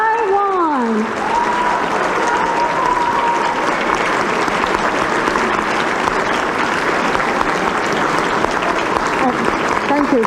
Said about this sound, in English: with a big round of applause, let us welcome President Tsai Ing-wen of the Republic of China, Taiwan